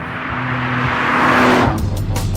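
A TVR T350C prototype sports car drives under hard engine load, a steady loud drone with a pitch shift near the end as the revs change, close and continuous.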